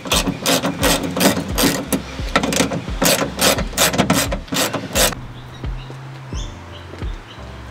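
A ratchet undoes two 10mm bolts on the tailgate of a Mitsubishi MR Triton (L200) pickup, giving loud, close, rapid clicking bursts in steady rhythm for about five seconds, followed by quieter faint mechanical sounds.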